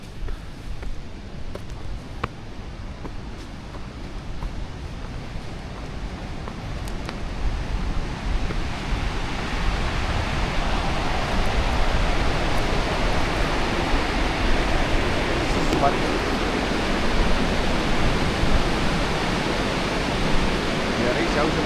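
A waterfall on the Kungsleden trail at the trailhead sends up a steady, broad roar that swells louder over the clip and fills the whole scene, with outdoor wind mixed in.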